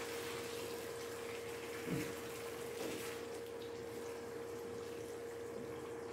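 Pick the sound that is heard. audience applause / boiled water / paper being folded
boiled water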